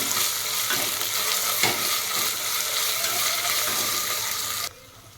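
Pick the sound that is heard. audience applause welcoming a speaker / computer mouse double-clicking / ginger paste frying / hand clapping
ginger paste frying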